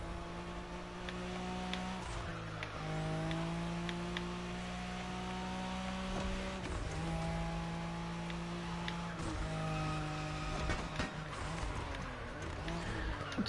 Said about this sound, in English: Some actually decent drifting.